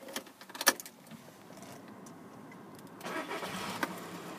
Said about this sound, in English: if we just get the car started